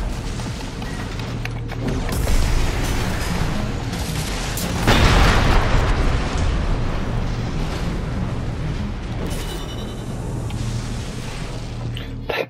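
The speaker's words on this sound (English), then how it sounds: "but those explosions are nice." Explosions in the video game Armored Core 6: a dense, sustained roar of blasts and rumbling debris with a big boom near the middle, loud throughout and no talking.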